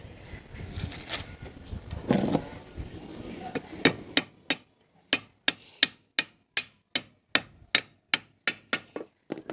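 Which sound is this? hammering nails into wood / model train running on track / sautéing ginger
hammering nails into wood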